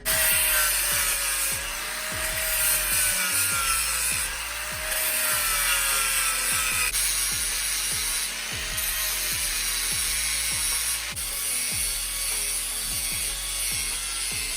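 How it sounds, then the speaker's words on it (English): A flap disc grinds away metal on the car body of a turbo Honda CRX buggy, giving a loud, continuous abrasive whine with a rapid repeating ticking beneath it. It carries on close and steady, with no talking. "taking a flap disc to it and literally grinding all of this away"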